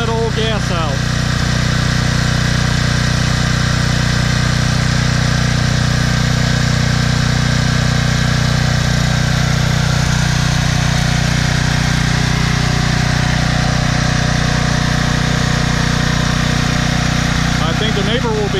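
A Troy-Bilt 8000 watt generator with a 15HP Briggs & Stratton engine runs steadily close by, a constant loud droning hum with even vibration that holds for the whole stretch.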